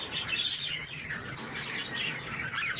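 Budgerigars at the Lalukhet Sunday bird market chatter in a dense, continuous stream of squawks and chirps, close and lively.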